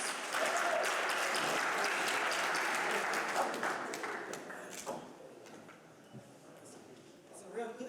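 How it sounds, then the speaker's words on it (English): An audience at a symposium applauds as speaker Yonique Hendricks is introduced, loud sustained clapping that thins out and fades to scattered claps after about five seconds. "Come on and give a round of applause for my girl,"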